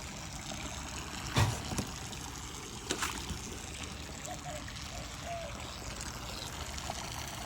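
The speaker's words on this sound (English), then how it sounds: "So this thing auto siphons once it gets to a certain height." Water drains through an aquaponic auto siphon with a soft, steady trickling and gurgling flow, broken by a couple of brief louder splashes.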